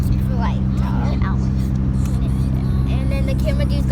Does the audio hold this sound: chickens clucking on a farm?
no